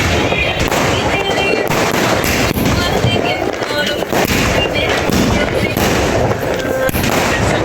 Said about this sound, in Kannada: ಇಲ್ಲಿ ಪಟಾಕಿ ರೆಡಿ ಆಗ್ತಿದೆ.